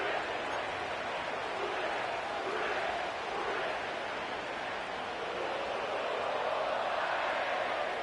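Sellout stadium crowd at Paycor Stadium in Cincinnati during a football video game, a steady broadband roar of massed voices that swells and eases slightly, continuous and loud with no single voice standing out.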